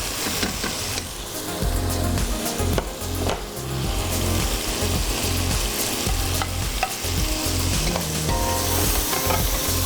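Vegetables frying in masala in a pot make a dense, steady sizzle close by, with repeated stirring scrapes and clinks running through it.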